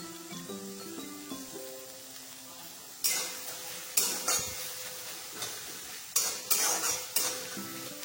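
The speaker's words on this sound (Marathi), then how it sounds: "टोमॅटो पूर्णपणे गळूसपर्यंत आपल्याला भाजून घ्यायचा आहे" Tomato roasting in a pan for prawn biryani, a soft sizzle broken by several sharp bursts of stirring and utensil scraping against the pan.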